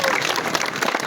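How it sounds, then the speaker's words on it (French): Dense crowd applause fills the whole moment, a steady wash of many hands clapping at once, loud and close, with a few voices mixed in. "Est-ce qu'on peut applaudir très fort à l'UIB?"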